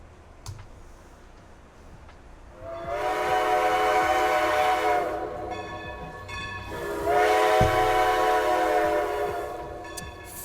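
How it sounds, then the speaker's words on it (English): Train horn or whistle blasts from real trains running a few blocks away, two long sustained tonal blasts separated by a short gap, fairly loud but distant, with no talking. "That's why we have the train sound effects, because we have real trains just 3 blocks away."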